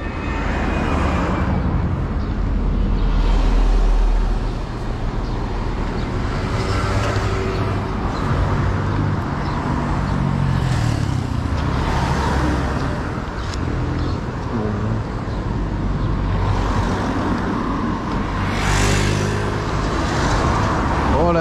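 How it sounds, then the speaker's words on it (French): Road traffic flows in Mamoudzou, Mayotte, with a continuous roadside rumble of cars passing nearby, engines swelling and fading over the steady background hum, and occasional faint voices. "La circulation est très fluide."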